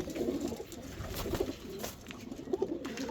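Flocks of competition flying pigeons at a pigeon farm coo in a steady, overlapping chorus, with repeated low throaty coos rising and falling close by and no voices.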